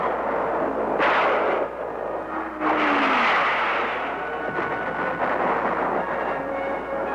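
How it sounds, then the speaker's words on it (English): Artillery and mortar rounds pound a Vietnam hillside during an assault, a continuous loud roar with several sharp heavy blasts and rumbling booms overlapping one another in a dense barrage. "Artillery and mortar rounds."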